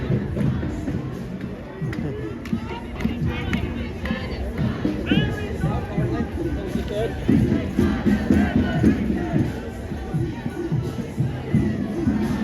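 A crowd of protesters on the march makes a continuous roar of many voices, with chanting and shouting swelling and rising in volume toward the later part as the group moves closer.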